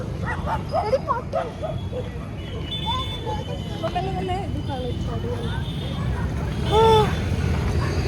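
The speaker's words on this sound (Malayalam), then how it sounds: "പട്ടി നമ്മളെ പേടിപ്പിച്ചു" A dog on a street near parked shops barks and yips in short bursts, with whimpering calls mixed in, while people talk nervously close by and traffic hums in the background.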